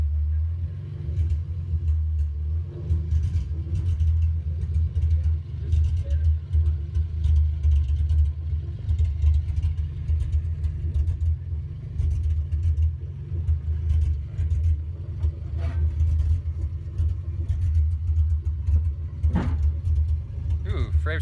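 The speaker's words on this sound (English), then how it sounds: "Okay, so we're in the car. We're driving around." A Toyota Supra being street tuned drives along with a steady low engine rumble from inside the cabin, while occupants talk over it.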